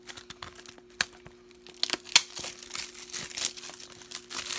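Katamari Damacy Reroll game packaging being unwrapped by hand, with close, irregular crinkles, plastic crackles and a few sharp tearing snaps, quiet between bursts and with no voices.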